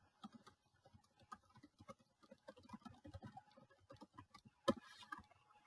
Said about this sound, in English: I can simply click on the text that I want to delete and backspace and then type my